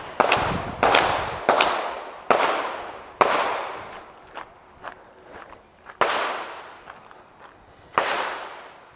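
A sighted firearm fires at a humanoid target about 20 metres away, with sharp shots at irregular intervals. Each crack has a decaying outdoor echo, and some are followed by softer thumps.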